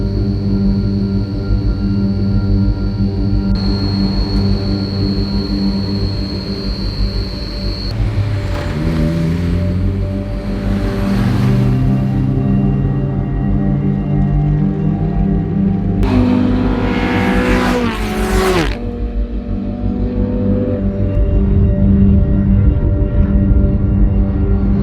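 An in-car recording of a race car in a time attack session, its engine droning loud and steady throughout, pitch sweeping up and down through gear changes and corners.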